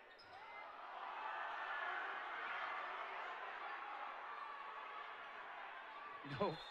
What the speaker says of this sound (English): No call on the play. The crowd didn't like it.